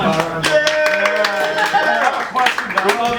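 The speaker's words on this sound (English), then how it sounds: "By a round of applause." Audience applause at a live comedy call-in show, a short burst of clapping with distinct hand claps over a bed of talk and tonal background sound.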